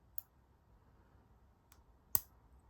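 A Chubb padlock being picked with a Lishi tool gives off sharp, small metallic clicks: a light tick, a faint one, then a crisper click, spaced apart in near silence with no talking.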